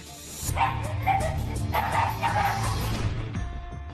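A dog barks and yips in a short run of bursts, fairly close, with a whimpering edge, then it stops and only low background hum remains.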